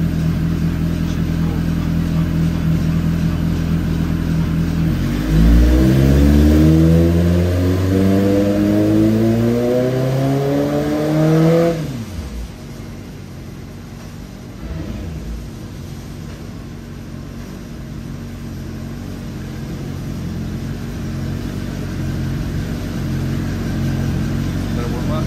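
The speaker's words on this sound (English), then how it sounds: "team are warming up the bike right now" A 2023 Kawasaki ZX-10RR sport bike engine warms up at idle, then revs in a long climbing sweep before dropping back to a steady, loud idle rumble up close.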